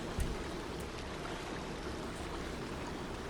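A steamboat moves across the water in the Red Dead Redemption 2 video game near the shore approaching Annesburg, its wash a steady broadband rush of water like a stream, with one faint thump at the start.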